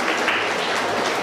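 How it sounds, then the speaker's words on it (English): Brief burst of steady audience clapping at a middle school quiz event, dense and continuous throughout, with no voices on top. "So please clap for me."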